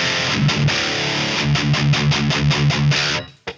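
Distorted electric guitar played through a Mesa Boogie Mark IIC+ amp simulation, a loud chugging run of rhythmic palm-muted chords and a few ringing notes, ending abruptly, with no talk.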